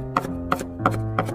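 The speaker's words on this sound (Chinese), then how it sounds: "先切片，再改刀切成蒜末" A knife on a cutting board minces garlic cloves, first sliced and then cut down fine: four evenly spaced, crisp chops over a steady tonal background, with no talking.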